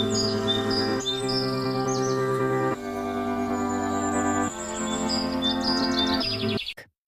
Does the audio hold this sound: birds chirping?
yes